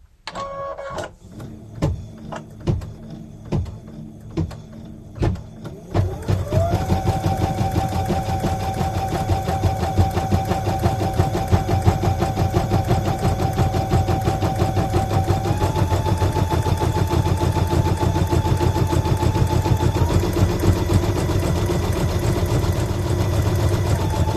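A sewing machine stitches an applique clover hot pad: a few sharp mechanical clicks first, then a loud, steady, continuous whirring run that holds to the end.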